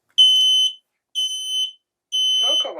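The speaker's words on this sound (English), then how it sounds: "So let's test the smoke alarm." A smoke alarm under test sounds three loud, piercing beeps, each about half a second long with even gaps between them, and a voice starts talking as the last beep ends.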